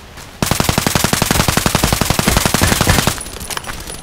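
Rapid sustained automatic fire from a KAC PDW rifle in the Contract Wars shooter game, a loud, steady burst of closely spaced shots lasting close to three seconds before it cuts off into quieter game ambience.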